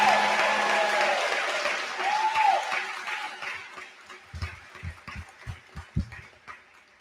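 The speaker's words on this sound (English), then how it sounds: "Please give a round of applause for all of our students that worked so hard." Crowd at a school graduation ceremony gives applause for the graduating students, a broad wash of clapping that starts dense and loud, then thins into scattered individual claps fading toward the end.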